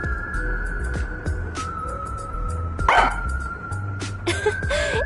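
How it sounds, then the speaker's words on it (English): Sugar the dog in the video game Raincode gives a few short barks and yips at mid distance over a steady background hum. "She barks at me all the time."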